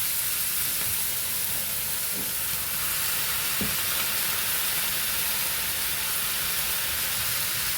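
Soft tomatoes and fresh mint cook in a pan for a tomato, mint and peanut chutney, a steady broadband hiss and low sizzle with a couple of faint knocks, close and continuous with no talk.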